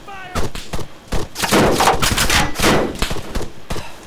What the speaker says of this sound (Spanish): pues será Eric al que han disparado entonces